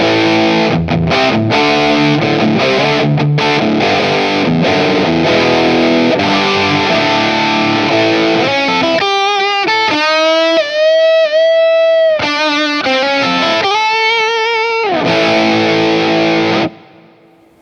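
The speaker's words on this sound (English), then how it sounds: "when I set up my crunch channel, it is pretty crunchy, pretty aggressive," A loud electric guitar, a Stratocaster, through a crunchy, gritty distorted amp channel plays chugging chords and then sustained lead notes before stopping abruptly.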